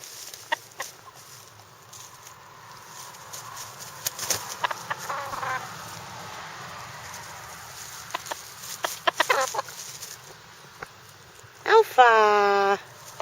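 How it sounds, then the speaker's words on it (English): A d'Uccle hen clucks contentedly in a dewberry patch, soft intermittent clucks through most of the stretch with a louder, rising call near the end, while a person speaks quietly nearby. "That's a happy hen."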